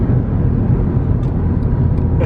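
Honda Civic Type R FD2R with a VTEC engine, heard as a steady, loud, broadband drone of engine and road noise from inside or near the car, continuous throughout with no talking.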